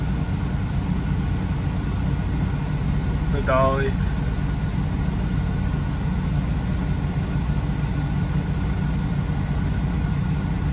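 A tractor engine idles steadily nearby while hitched to a potato dolly trailer on a West Texas farm, a constant low rumble filling the scene, with someone speaking briefly over it.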